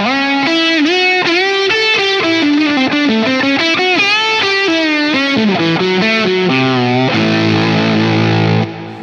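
A Silktone germanium fuzz pedal drives an electric guitar into a thick, saturated tone. A loud melodic line plays for several seconds and ends on a buzzing, sustained chord, with no talk.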